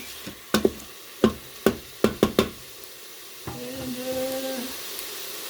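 Spoon strikes and scrapes as black-eyed peas and collard greens are stirred in an Emeril Lagasse pressure air fryer, a quick run of sharp clinks followed by a soft sizzling, bubbling hiss close by.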